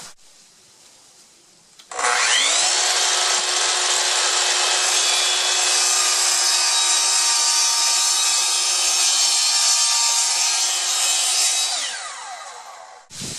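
A saw cuts steadily through a pipe for about ten seconds, loud and continuous with a bright rasping whine, starting abruptly and tapering off near the end; no one talks over it.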